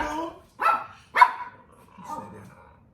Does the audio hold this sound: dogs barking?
yes